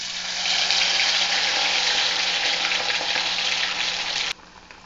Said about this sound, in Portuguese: Agora que meu óleo já tá bem quente, eu vou colocar as batatas para fritar